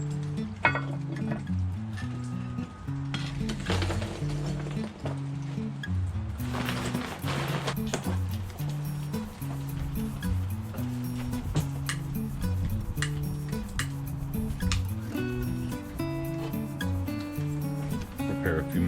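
Sprite chicken and red potatoes simmer hard in gravy over lump charcoal, giving a steady, close bubbling sizzle with occasional stirring scrapes and clinks, under a continuous bed of tonal background music.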